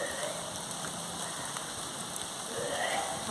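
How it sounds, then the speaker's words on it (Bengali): Steady rain falls continuously on surfaces during a cyclone, a soft even hiss of drops at moderate distance with no talking. "দেখুন অলরেডি বৃষ্টি শুরু হয়ে গেছে"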